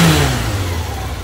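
A 2001 Kawasaki ZR-7S with a carbureted 750cc inline-four engine revs briefly, loud and near, its pitch dropping as the throttle falls back.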